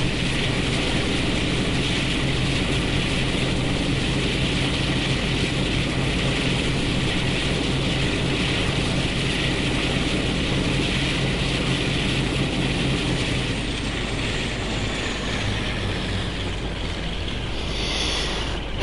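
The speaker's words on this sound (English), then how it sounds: "Beautiful sound of the Western at full power." A Class 52 Western diesel locomotive in Train Sim World running at full power, a loud sustained engine drone with a rapid mechanical chatter, steady for most of the stretch before easing slightly near the end.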